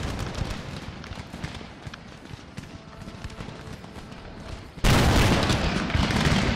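Musket volleys crackle through a fire-by-rank battle in Empire: Total War, a steady rattle of shots and hoofbeats with a sudden dense, loud burst of massed gunfire near the end.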